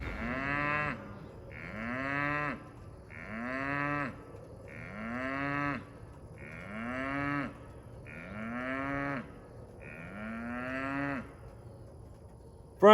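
An Angus cattle calf moos repeatedly, about seven long, drawn-out calls evenly spaced every second or two, close and clear over a quiet outdoor background.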